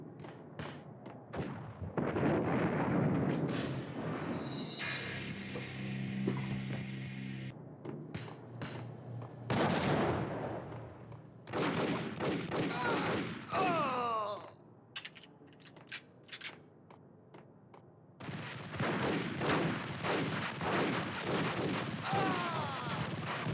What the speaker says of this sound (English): The grenades are out of control.